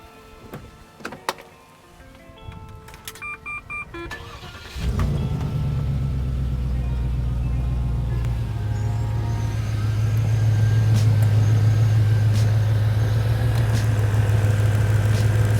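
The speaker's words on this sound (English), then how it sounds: "So the compressor is running." An EAS air compressor engine starts up partway through and settles into a steady, loud, low drone, with a few clicks and knocks beforehand.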